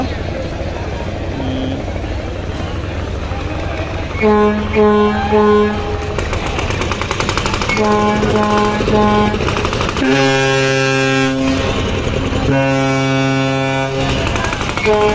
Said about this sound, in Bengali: সবচেয়ে বেশি যাত্রী নিয়ে পটুয়াখালীর উদ্দেশ্যে ছেড়ে যাচ্ছে পুবালি বারো লঞ্চ